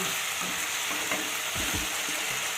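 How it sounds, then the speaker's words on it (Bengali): Pointed gourd sautéing with spices in a pan, a steady close sizzle broken by a few soft stirring scrapes, with no one talking. "পটলটাকেও এক দু মিনিট মতো ভালো করে কষিয়ে নিলাম"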